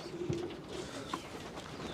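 Pigeons coo softly inside a loft among young birds. A few low, faint coos sit over a steady background rustle.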